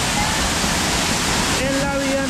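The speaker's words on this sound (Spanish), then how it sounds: "Miren, qué belleza, qué hermosura de cascadas." Loud, dense roar of waterfalls in the Anchicayá canyon along the old road to Buenaventura, a steady broadband rush filling the scene, with a voice speaking over it toward the end.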